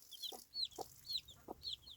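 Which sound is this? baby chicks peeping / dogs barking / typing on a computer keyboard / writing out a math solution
baby chicks peeping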